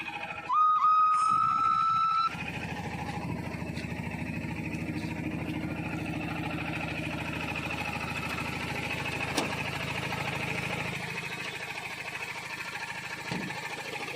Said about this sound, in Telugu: ఇంజన్ నాయిస్ కూడా చాలా డల్గా ఉంది